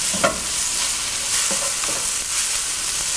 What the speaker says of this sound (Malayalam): സവോള നന്നായിട്ട് വഴലണം.